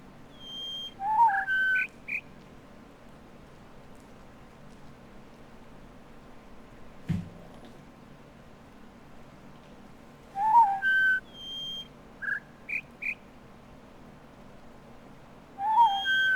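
Whistled bird calls from The Witness come in short repeated phrases of a few clear notes, with long quiet stretches between them and one dull thump near the middle.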